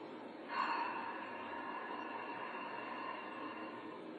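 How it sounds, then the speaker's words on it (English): A single long yoga ocean-breath exhale through the mouth, breathy and whooshing like a soft wave, held steady for several seconds up close. "as you exhale through the mouth, you're going to make an ocean sound"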